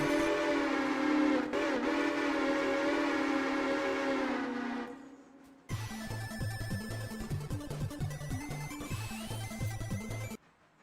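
Train sounds from the railroad game Railroader: a loud sustained whistle blast fades out, then the rhythmic clatter of rolling rail cars takes over, with no talking.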